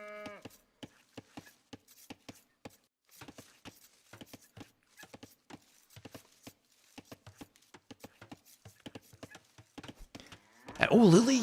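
Cattle low in Age of Empires II, a single brief moo near the end that follows a long run of rapid, evenly spaced clicks.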